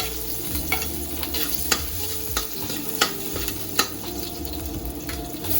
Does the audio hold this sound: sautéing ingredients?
yes